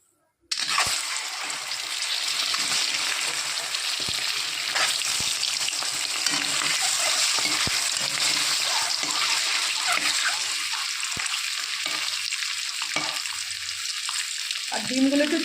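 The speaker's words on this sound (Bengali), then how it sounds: "এদিকে তেল গরম হয়ে গেছে, ডিম ভাজার জন্য দিয়ে দেবো তেলের মধ্যে" Eggs frying in hot oil in a pan, seasoned with salt and turmeric, give a steady, close, continuous sizzle and crackle with occasional spatter pops, without talk.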